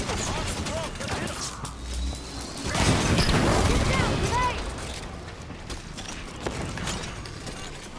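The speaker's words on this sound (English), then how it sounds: "Turrets on and firing." Automatic turrets open fire on Promethean enemies in the Halo 5: Guardians video game, a dense mechanical clatter of rapid shots and metallic impacts layered over game music and effects, with a voice speaking briefly.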